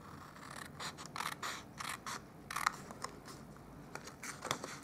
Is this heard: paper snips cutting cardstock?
yes